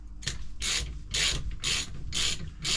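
A socket wrench ratchets on the air side of a Manitou Mastodon Gen 2 suspension fork, five rhythmic back-and-forth strokes of close, gritty clicking.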